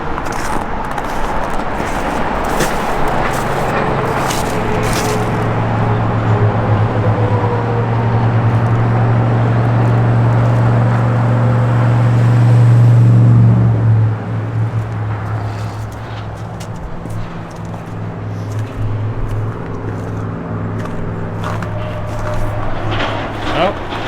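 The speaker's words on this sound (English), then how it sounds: "we are actually crossing over traffic right now" Steady road traffic rumbling below a bridge, heard from above while walking across on abandoned rail lines, a continuous low drone that swells midway and then eases, with occasional scrapes and footsteps close by.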